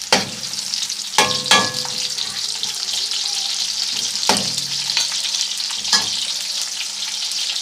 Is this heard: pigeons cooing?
no